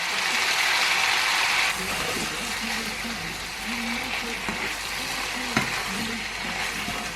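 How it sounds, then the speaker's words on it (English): Ackee and saltfish sizzling in a pan while a utensil stirs and scrapes through it, close and steady, with rhythmic scraping strokes over a constant fry hiss. "Now for my main ingredients, my ackee, and that goes right in there."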